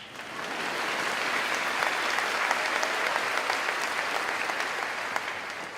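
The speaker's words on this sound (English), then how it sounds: "go ahead, clap" A high school commencement audience breaks into sustained applause, a dense steady wash of many hands clapping that swells in and holds evenly, with no talk over it.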